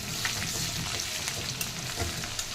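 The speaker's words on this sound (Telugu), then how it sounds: "ఉల్లిపాయలు కొంచెం వేగాలి" Onions and garlic fry in oil in a pan for a meelmaker curry, giving a steady close hiss with scattered crackles and pops, no voices.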